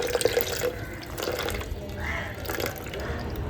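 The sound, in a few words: plain water being poured and mixed into a jar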